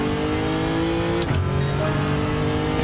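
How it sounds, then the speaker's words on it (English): A Toyota Crown Athlete with an engine swap and modified suspension runs a lap, its engine droning loud and steady with a brief shift in pitch partway through as it changes gear. "This car actually is quite a blast to drive"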